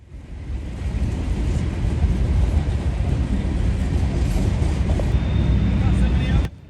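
Amtrak 43, a passenger train, rolls west toward Pittsburgh with a loud, broad rumble building and holding for several seconds before cutting off abruptly, heard from trackside.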